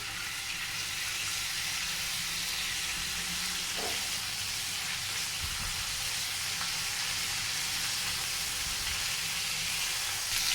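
Ginger garlic paste fries with goat liver in a pan, giving a steady, even sizzle and hiss that runs unbroken and fairly quiet, with no talking.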